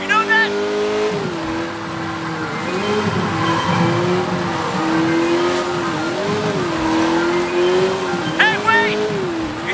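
Street racing in the game Sleeping Dogs: an engine revs up and down in waves while tires squeal briefly, with a voice talking over the driving.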